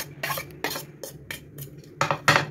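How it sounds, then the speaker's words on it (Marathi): A spoon stirring mango pieces into a mango malai ice cream mixture in a bowl, a series of distinct scraping clinks in an uneven rhythm, close and fairly loud, with no talk. "आणि त्या आंब्याच्या तुकड्याला आपण याच्यामध्ये मिक्स करून घेऊ."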